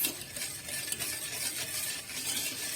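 Sugar is stirred into freshly boiled milk in a pot, a soft continuous swirling and light scraping, quiet and close, with no voices.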